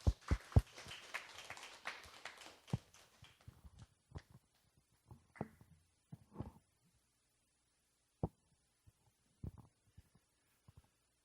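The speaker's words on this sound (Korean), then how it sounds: "우리 격려의 박수 드리겠습니다" A church congregation gives quiet encouraging applause for a visiting missionary: a short burst of clapping that thins within a few seconds to scattered single claps.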